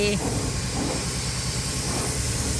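Anti-rust paint spraying onto a truck part makes a steady, close, continuous hiss that holds evenly from start to finish, with a brief low voice at the very beginning.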